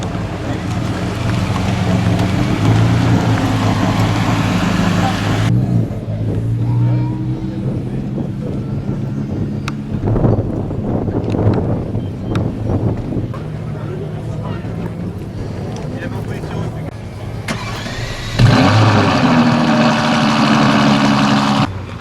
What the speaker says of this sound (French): suivi d'une Bugatti Vitesse derrière.